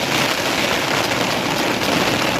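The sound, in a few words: heavy rain falling in Gir forest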